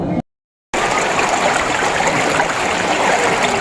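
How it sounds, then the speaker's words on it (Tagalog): Water rushing along a stream in the Philippines, a steady broadband wash that runs continuously and fairly loud after a brief dropout near the start, with no voices. "Agos po ang tubig dito po sa bangbo."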